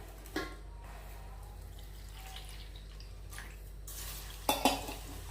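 Sugar and milk being stirred in a pot for sweet ribbon murukku, a faint quiet kitchen scene with a few soft metallic clinks and scrapes of a utensil against the pot.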